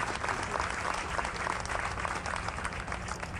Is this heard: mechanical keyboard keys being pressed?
no